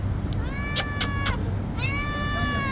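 A cat meows twice nearby, the second a longer plaintive call, over a steady background hum with a few sharp clicks.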